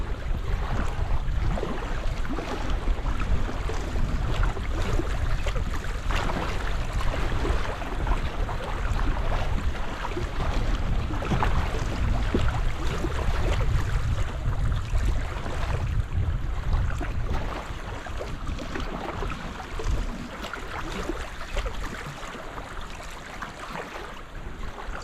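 Strong wind buffeting and choppy water slapping around a foldable kayak near an island, a loud, steady roar with low gusting rumble that eases slightly toward the end, no talk.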